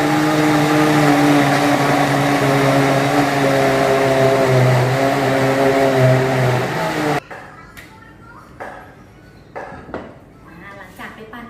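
A blender whirs loudly and steadily as it blends sweet corn for corn milk, then cuts off abruptly, leaving a quiet room with scattered knocks and handling sounds.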